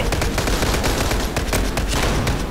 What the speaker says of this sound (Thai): ยิงรัวไว้ก่อนนะ ยิงรัวไม่พอลูกเยอะนะ